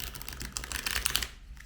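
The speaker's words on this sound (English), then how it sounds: "Let me shuffle one more time." A deck of tarot cards is shuffled up close, a rapid run of crisp riffling clicks for about a second before it settles and stops.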